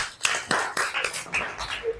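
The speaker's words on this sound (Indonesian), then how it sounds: "Tepuk tangan dulu dong." Rhythmic clapping in an Indonesian classroom, a short run of evenly spaced claps about every quarter second, moderately loud and close, likely a group patterned clap.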